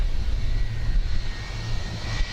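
An SAS passenger jet lands at Dublin Airport, its engines a loud, steady, close roar with a broad rushing hiss and a faint high whine running throughout, no voices.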